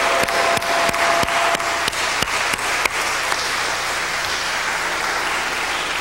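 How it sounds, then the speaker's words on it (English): Applause at a Nation of Islam convention, a loud, dense wash of clapping from a large crowd, with several sharp single claps standing out early on before the sound settles into an even, sustained roar. "Y'all need to give yourselves a round of applause"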